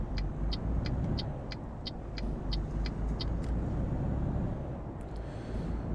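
A truck engine in Euro Truck Simulator 2 gives a steady low rumble throughout, with a regular high ticking, like an indicator, clicking over it for the first few seconds.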